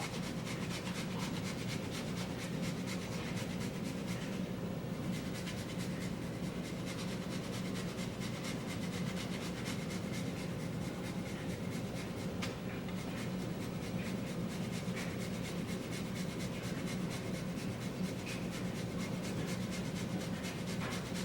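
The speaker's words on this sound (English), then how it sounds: "So I'll just grate it in and eyeball it." Fresh Romano cheese is grated by hand over a chicken curry casserole, a steady close scraping rasp with rapid rhythmic strokes continuing throughout at low level, no speech.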